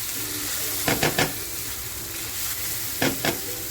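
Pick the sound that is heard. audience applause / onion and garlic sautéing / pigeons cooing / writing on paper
onion and garlic sautéing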